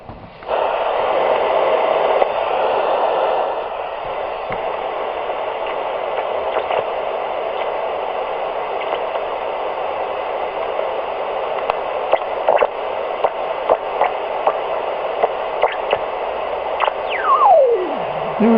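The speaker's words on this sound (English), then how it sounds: "It's a very weak signal, but I can get it to squeal." A weak 14 MHz shortwave signal on a frequency-synthesized receiver squeals faintly through a steady wash of hiss and static, with scattered clicks and a brief rising whistle near the end.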